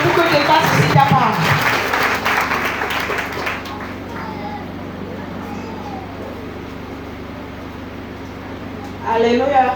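A church congregation breaks into loud, dense applause and clapping to acclaim God, strongest at the start and then fading into a murmur of voices, with another burst of clapping near the end.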